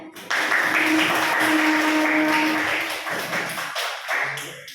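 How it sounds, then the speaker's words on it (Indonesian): Applause from a class of students rewarding classmates with high scores fills the room, a steady, dense patter of many hands clapping close by for several seconds before tapering off. "Yang dapat nilai tinggi kita beri aplaus ya"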